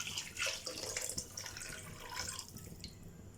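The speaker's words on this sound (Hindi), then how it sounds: "और आपके जितने राइस हैं उतना वाटर ऐड कर देंगे।" Water poured from a tap into a pot of rice for yakhni pulao, a steady splashing pour that fades slightly toward the end, close and alone with no talk.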